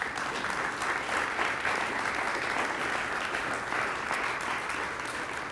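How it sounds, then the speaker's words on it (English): Audience at a community event in Bexley, Ohio claps in sustained, dense applause, evenly loud throughout with no voices standing out. "Give them a round of applause."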